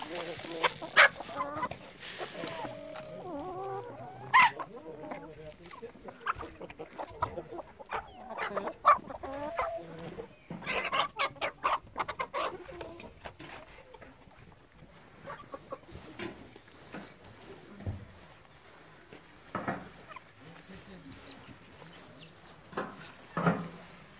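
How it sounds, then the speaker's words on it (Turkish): Chickens cluck and squawk in a village setting with repeated irregular bursts, some close and loud, others fainter, with occasional quiet talk in between. "Tavuklarımız."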